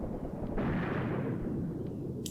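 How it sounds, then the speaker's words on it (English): Machine guns firing in the war game Graviteam Tactics: a sustained, dense rumble of distant gunfire with no clear separate shots, building slightly in the middle and running steadily throughout. "Machine guns."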